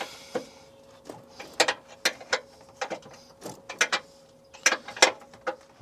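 A ratchet wrench clicks in uneven bursts while loosening a transmission mount bolt on a 2007 Ford Edge 3.5L, close and fairly quiet, with short rapid pawl clicks and pauses between strokes.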